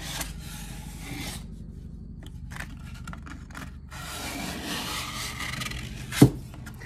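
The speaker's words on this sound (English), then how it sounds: "So your first step is to sand it all. And I'm just getting all the rough off." Sandpaper rasps by hand across a small wooden crate, a steady close rubbing that pauses briefly and resumes, ending with a sharp knock.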